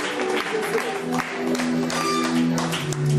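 A church congregation clapping, a full ongoing round of applause with some tonal murmur or music-like hum beneath, fairly loud and sustained.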